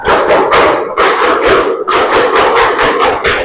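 A class of pupils performs the "tepuk semangat" rhythmic clapping chant, loud bursts of many hands clapping in a patterned beat with brief pauses between groups, close and energetic.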